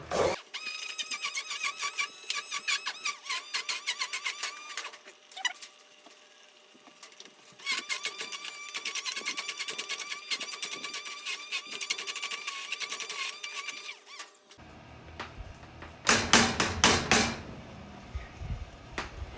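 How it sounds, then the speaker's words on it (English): An immersion blender whirs through cooked vegetables in two long bursts with a short break between, steady and close, then gives way to a rougher, more irregular passage of scraping and knocking near the end. "I'm going to immersion blend this"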